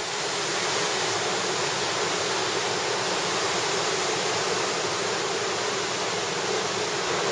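A river on the Otter Trail rushes steadily, a dense, unbroken wash of flowing water heard close with no other sounds.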